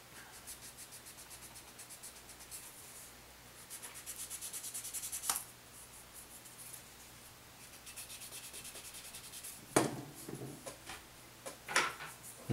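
Fine-grit file rubbing back and forth on a plastic model kit sword part, close soft rasping strokes in a steady rhythm with a few sharper clicks.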